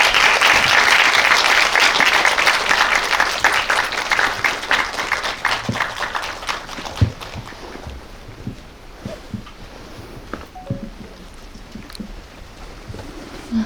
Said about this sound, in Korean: 큰 박수 부탁드릴게요.